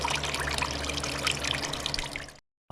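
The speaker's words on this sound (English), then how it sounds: "we're gonna continue to drain the water as much as we can." Water draining out of a Formula Vee race car engine, a steady close gushing and splashing flow that stops abruptly near the end, leaving a few faint drips.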